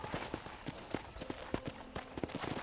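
Horse hooves clip-clop at a steady walking rhythm in the video game Red Dead Redemption as a horse is led around a ranch, a clear, fairly quiet series of hoofbeats with faint background sound.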